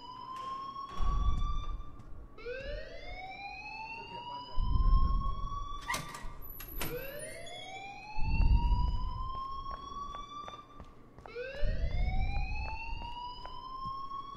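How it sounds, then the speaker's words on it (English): An alarm rings in the video game Life is Strange, a rising siren-like wail that repeats four times in loud sweeping cycles with low thumps under each rise, no talking. "please turn off that alarm since that's your job"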